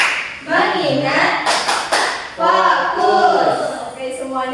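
Children in a primary school classroom perform the tepuk fokus clapping routine, a few sharp hand claps mixed into their chanted group speech, close and fairly loud.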